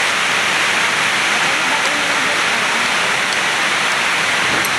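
Heavy rain pours in a dense, loud, continuous hiss, steady from start to finish.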